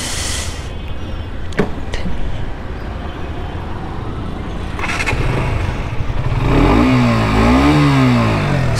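A KTM RC 125 BS6 2020 sports bike engine idles with a low, steady mechanical hum and a few clanks, then revs up loudly with rising and falling pitch.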